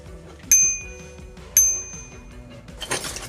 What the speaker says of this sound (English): and bike bell.